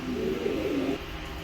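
White racer pigeons, a breeding pair with the hen sitting on eggs, coo in a soft, low rolling phrase close by for about a second, then fall quiet over a faint background hum.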